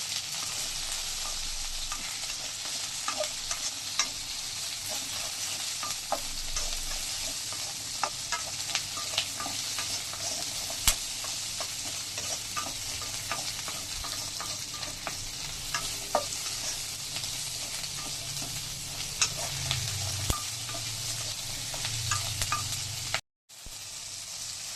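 Onions sautéing in hot oil for a Nattu masala chicken fry, a steady close sizzle with frequent scraping and clicking stirs of a spoon against the pan, no talking.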